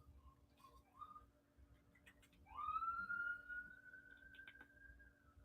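A siren passes outside a store, its rising wail swelling from quiet to a loud, steady high tone over several seconds, with faint room noise beneath and no talking.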